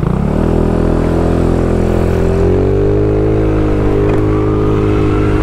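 Red Yamaha Mio motorcycle, a restored 130cc scooter, pulling away: a loud, close engine drone that rises gently in pitch as it accelerates and then holds steady throughout, with no talk.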